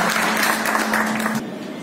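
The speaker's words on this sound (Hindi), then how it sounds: "पूरे देश की पुलिस और सेना के लिए एक बार जोरदार तालियां बजाइए।" A crowd claps for police and army at a film promotion event in Patna, with brisk applause and a steady hum underneath, stopping abruptly near the end.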